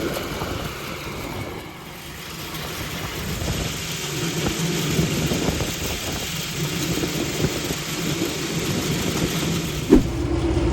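A loud, failing HVAC motor runs steadily throughout, a continuous heavy drone with rough low rumble and a brief sharp knock near the end.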